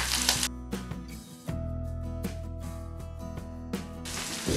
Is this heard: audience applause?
no